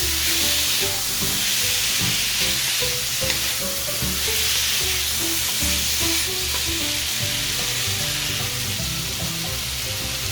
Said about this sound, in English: stirring, and stirring